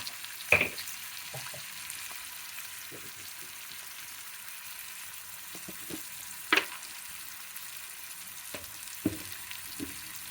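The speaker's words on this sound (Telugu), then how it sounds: "దానికి ఉప్పు ఉల్లిపాయలు యాడ్ చేసుకుంటే తొందరగా వేగుతుందండి ఉల్లిపాయలు" Onions with salt fry quietly in a pan, a faint steady sizzle broken by a few sharp clicks and scrapes of stirring, with no talking.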